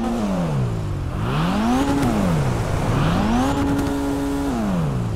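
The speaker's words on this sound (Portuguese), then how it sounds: "O som do turbo é muito top" Jester Classic sports car in GTA 5 with a turbo engine, revving repeatedly through rising and falling pitch sweeps, a loud close engine whine with turbo whoosh and hiss between revs, no voices.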